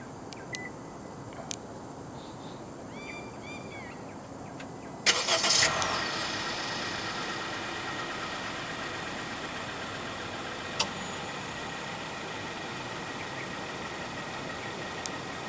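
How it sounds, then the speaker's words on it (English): A 2023 Honda WR-V 1.5 E starts remotely: faint beeps, then a sharp engine crank and catch at mid-clip, settling into a quiet, steady idle with a single later chirp. "The E-Trim and above WRV in Malaysia comes as standard with a remote engine start system"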